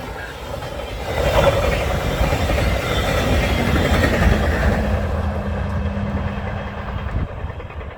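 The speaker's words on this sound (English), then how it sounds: "Symbol on that train's Via 63" VIA Rail train 63, running from Montreal toward Toronto, passes a road crossing at East Townline Road in Newtonville, Ontario, with a rising, sustained rumble and a steady horn-like tone before it fades.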